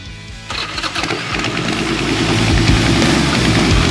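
A small gasoline engine cranks repeatedly after a cracked gas tank was repaired, a loud, close, rapid mechanical churning that builds without catching into a clean run.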